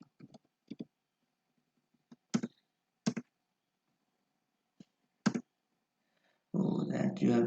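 Scattered crisp clicks of computer keyboard keys being typed during data entry, sparse and close with long pauses, followed by a person starting to talk.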